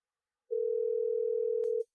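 A telephone dial tone sounds during a call as one clean, steady tone lasting just over a second, with silence before and after.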